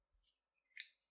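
Scissors make a quick, faint double snip trimming the ends of rope for a square knot mat, close up and in quiet.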